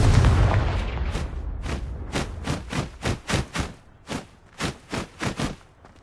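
A Confringo blasting spell from a Harry Potter video game, one loud close explosion followed by a rapid series of about a dozen punchy booms and bursts in a fairly steady rhythm, with no talk.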